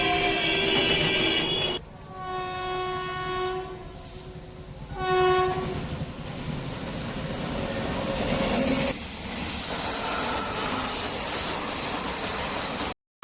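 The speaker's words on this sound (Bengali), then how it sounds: "দেখুন এটা হচ্ছে প্রান্তিক রেল স্টেশন" A train rumbles past nearby at Prantik railway station with a long two-tone horn blast, the horn sounding twice, then steady rolling wheel noise continuing to the end.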